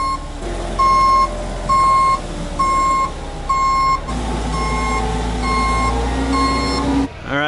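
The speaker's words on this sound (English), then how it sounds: "We managed to get the truck in here." A big hauler truck backing into a hillside work site, its backup alarm sounding a steady series of loud, evenly spaced beeps over the low rumble of the engine.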